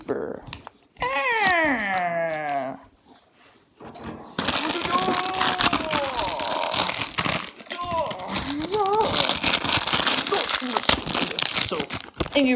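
Paper crinkles and crumples while an Angry Birds splat ball toy is unboxed, the rustling running close and steady under excited talk after a brief sung opening.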